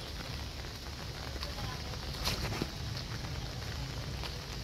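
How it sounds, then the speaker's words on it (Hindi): Steady rain falls across a plant nursery garden, a dense even hiss of drops with a few sharper patters on nearby surfaces, continuous and moderately close throughout. "बरसात हो रही है,"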